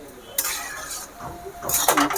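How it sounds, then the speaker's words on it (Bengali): Papaya curry being stirred in a cooking pot with a metal spoon, giving a few short scraping and clinking bursts against the pot's side, close and fairly loud, with quieter gaps between them. "আমি নাড়াচাড়া করে দিচ্ছি"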